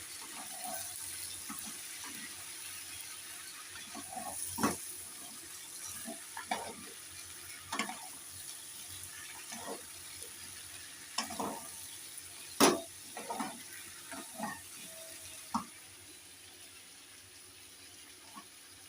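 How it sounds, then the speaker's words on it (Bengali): Green chilli paste and greens are stirred in a pan over a quiet, low sizzle. Scattered soft scrapes and knocks sound at irregular intervals, a few of them sharper clinks. "এটা দিয়ে আবার একটু নাড়বো।"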